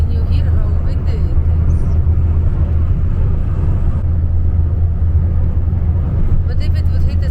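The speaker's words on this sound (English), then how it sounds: "Can you hear how windy it is?" Strong wind buffets a heavy self-built 4x4 MAN campervan truck in Morocco, a loud, steady low roar with constant gusting rumble throughout, no clear voices.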